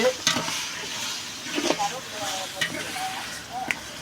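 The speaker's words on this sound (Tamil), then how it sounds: "தக்காளியை நல்லா வதக்கிக்கலாம்" Tomatoes sizzle steadily in a pan while a utensil stirs and scrapes, with occasional clicks of metal, close by.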